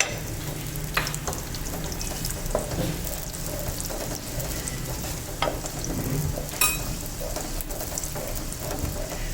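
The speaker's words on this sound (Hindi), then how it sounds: "अब इसको थोड़ा सा भून लेंगे, प्याज को हल्का सा, ज़्यादा ब्राउन नहीं करना है" Onions frying in oil for Hyderabadi khare masale ka qeema, a steady close sizzle and crackle with occasional stirring scrapes, no voices.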